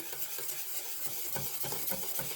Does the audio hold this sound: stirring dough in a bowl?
yes